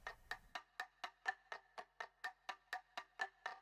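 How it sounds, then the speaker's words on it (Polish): Subtle looped clock-ticking sample in a deep house drop made in FL Studio: about fourteen soft, evenly spaced ticks, quiet and alone, after a brief low rumble at the start. "żeby dodać bardzo delikatny loop zegara, tykania zegara"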